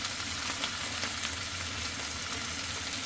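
Celery and mixed vegetables frying in a pan for pancit guisado: dense, steady sizzling and crackling, close and continuous with no talking.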